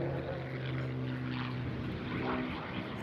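Propeller warbird aircraft flying at the Eastbourne International Airshow, its engine drone steady and moderately distant, with a continuous low hum and harmonic tone over breezy outdoor background, no voices.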